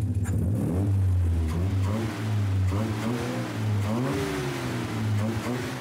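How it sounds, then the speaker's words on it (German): A 1973 Opel GT/J with a 135 hp engine revs in a steady, loud drone that rises and falls slightly, its low harmonic tone continuous and close throughout. "Opel GTJ, Baujahr 73. 135 PS, schlechte Straßenlage."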